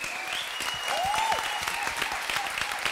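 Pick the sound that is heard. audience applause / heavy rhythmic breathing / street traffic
audience applause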